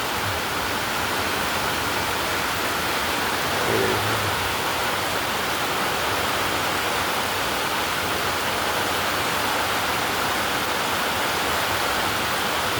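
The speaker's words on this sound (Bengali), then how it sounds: "বৃষ্টি হচ্ছে খুব পরিমাণে, মাঝে মাঝে থামছে, মাঝে মাঝে খুব হচ্ছে" Heavy rain pours down steadily in a village as a dense, unbroken hiss of water close by, with no voices over it.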